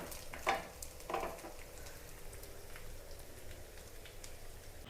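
Chicken fries in a pan, giving a faint steady sizzle with two brief louder crackling bursts near the start, then a soft continuous hiss.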